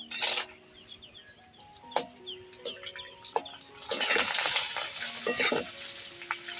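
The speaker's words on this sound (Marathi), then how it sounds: "भजे काढायच्या आधी मी थोडीशी पोंगी तळून घेणार आहे" Ragi pongi fries in hot oil in a home kitchen, a loud bubbling sizzle that swells as the pieces go in, with clinks and stirring scrapes from utensils close by.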